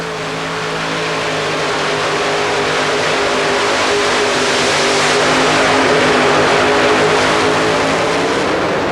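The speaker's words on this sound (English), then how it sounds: "John Powell coming up next in the Powell pulling tractor with 3 Keith Black 557 cubic inch engine." A modified pulling tractor with three Keith Black 557 cubic inch engines roars steadily and close at an indoor tractor pull, its droning pitch holding and swelling slightly as it revs, with no talking.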